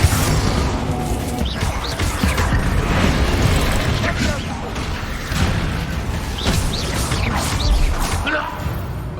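A Bombarda spell explosion in Hogwarts Legacy, heard as loud, booming blasts and crashing impacts with whooshing debris in a busy combat scene, recurring through the stretch.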